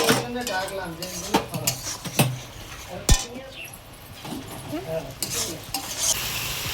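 Spiced masala paste sautéing in oil in a pan for a pomfret fish curry: irregular sizzling broken by sharp spatula scrapes and clinks against the metal, with a voice talking in places.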